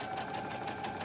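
Sewing machine chain stitching quilt blocks for a Christmas quilt, running as a steady continuous mechanical whir close by with no talking.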